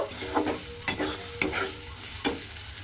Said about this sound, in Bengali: ভাজা পেঁয়াজ আর কিশমিশটা দিয়েও কিন্তু এখানে খুব ভালোভাবে একটু মিশিয়ে নিয়েছি।